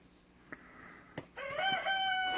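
A rooster crows outside in a long, drawn-out, high-pitched call in the latter half, after a couple of short sharp knocks and a brief cluck-like sound nearby.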